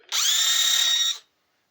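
A small, cheap cordless chainsaw for cutting branches and brush runs in a single burst of about one second. Its high, steady motor whine starts abruptly and then winds down to silence.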